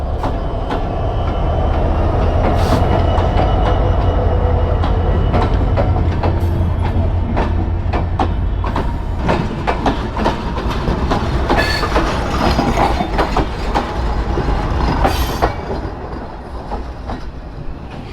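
A train rumbles steadily past a level crossing in Joypurhat, loud and close, with rhythmic clickety-clack of wheels over rail joints and occasional sharp metallic squeals before the sound eases toward the end.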